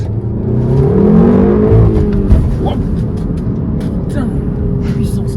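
An Audi S1 accelerates in a race against a Golf 7R, its engine rising in pitch through a gear or two at close range, with steady road roar underneath and brief clicks near the end.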